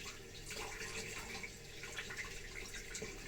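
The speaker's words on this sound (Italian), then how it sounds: "Mi do una sciacquata alla faccia" Cold tap water runs and splashes as hands rinse the face at a sink in an old spa bathroom with an antique boiler, an uneven wet spattering close by.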